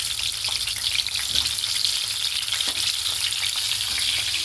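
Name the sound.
pointed gourd frying in mustard oil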